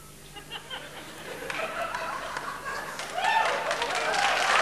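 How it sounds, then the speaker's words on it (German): Audience applause rises from scattered claps to a fuller, denser round toward the end, with a few chuckles mixed in, heard at a moderate distance. "das ist Ihr Applaus"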